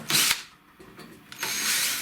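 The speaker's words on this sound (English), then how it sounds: "I'm going to drill a couple of holes in here to fix the bracket back on" A power drill boring holes in a metal bracket on a vehicle, with a loud whine burst at the start, a quieter gap, then a longer steady drilling run toward the end.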